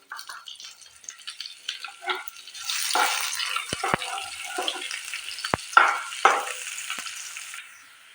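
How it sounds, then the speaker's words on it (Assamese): A large chopped onion frying in a pan over a medium gas flame, a soft sizzle building midway with occasional sharp clacks of a spoon stirring against the pan, no voices. "পিঁয়াজখিনি মই ভালদৰে ভাজি ল'লোঁ।"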